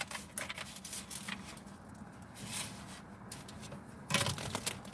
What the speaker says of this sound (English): It's so hard to shuffle.